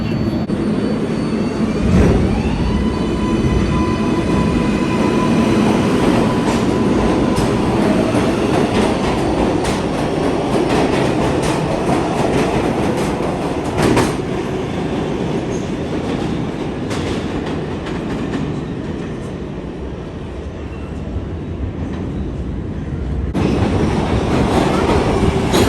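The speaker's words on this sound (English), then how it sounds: "here on the train" A New York subway train rides the rails under Manhattan near Times Square, with a loud, continuous rumble and rattle throughout and a few sharper clacks and squeals rising above the roar.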